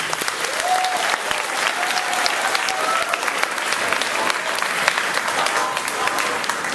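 Steady audience applause fills a junior high school talent show hall, a dense even clatter of many hands clapping, loud and sustained without pause, with a faint whistle or cheer rising through it.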